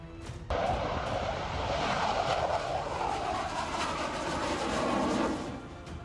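A Tejas MK-1A fighter jet in flight gives a sustained, loud roaring rumble that holds steady for several seconds before easing off.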